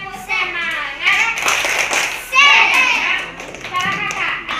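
Children clapping a rhythmic spirit chant together, sharp hand claps in quick bursts mixed with kids' voices calling out over the beat, fairly close and lively.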